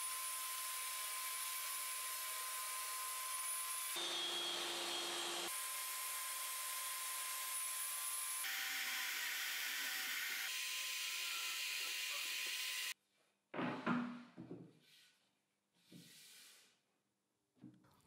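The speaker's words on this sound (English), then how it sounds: "First, I'll cut the birch plywood base." A power saw cuts birch plywood for a workbench folding-table top in long continuous passes, a loud steady whine with brief changes in pitch between cuts, followed by shorter rubbing and scraping bursts as the pieces are handled.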